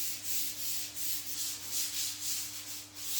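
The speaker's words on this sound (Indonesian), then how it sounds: "Amplas seluruh bagian yang telah dicat sebelumnya, lalu bersihkan menggunakan kain bersih." Sandpaper of 400 grit rubbing over painted mahogany wood, a close, steady rhythmic scratching swish repeating in quick back-and-forth strokes, no voices.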